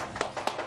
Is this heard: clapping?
yes